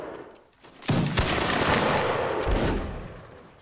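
Musket volleys crackle in a Mount & Blade line battle, a dense burst of overlapping shots starting just before one second and rolling on loudly before tapering off, with no speech.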